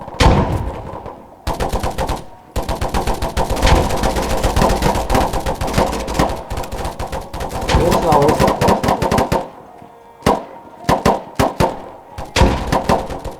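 Video game gunfire, long bursts of rapid automatic shots, loud and close, broken by short pauses and ending in a few shorter volleys.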